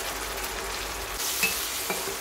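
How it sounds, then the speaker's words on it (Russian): Canned beans with their liquid frying in a pan, a soft continuous sizzle that swells slightly, with a couple of faint stirring taps, heard close and alone. "И также обжариваем ее"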